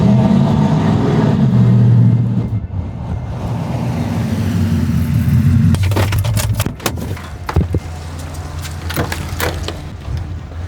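A slow but loud truck engine revs hard and drones, then drops off, followed by a series of sharp knocks and clunks, with no one talking.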